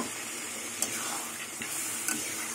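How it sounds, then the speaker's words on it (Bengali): A little water is added to shrimp and taro curry frying in oil, giving a soft, steady hiss and gentle sizzle with a few faint clicks, close and fairly quiet. "অল্প একটু জল দিলাম"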